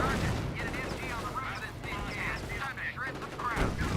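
A captured MG42 machine gun fires in a Company of Heroes battle, rapid bursts rattling close and loud amid other gunfire and chaotic battle noise, with a voice talking over it.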